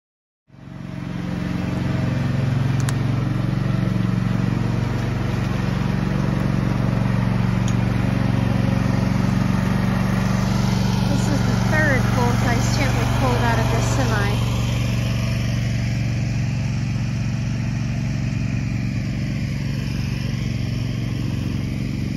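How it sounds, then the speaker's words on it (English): A lawn mower runs steadily and loudly throughout, mowing a sandy yard, with a brief burst of scraping and clattering in the middle where it catches on things buried in the sand. "This is what happens when you try mowing the yard and things are buried in the sand."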